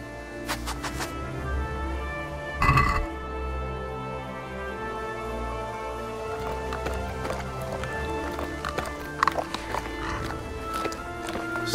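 Horse hooves gallop steadily in the video game Kingdom Come: Deliverance, with a louder thud partway through and layered tonal background sound.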